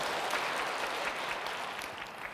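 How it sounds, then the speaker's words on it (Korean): Audience clapping at a Bible lecture given by a nun, a faint, distant, continuous patter of applause that holds steady throughout without any talking. "박수 한번 쳐주세요."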